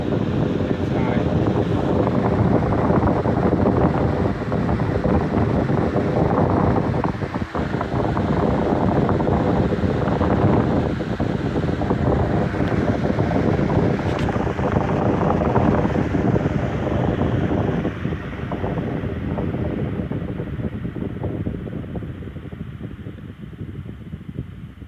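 An Emerson 16-inch electric fan, Type 73648, runs on high speed, a loud, steady broadband whoosh of moving air buffeting a nearby microphone, holding for about twenty seconds before easing slightly as it winds down.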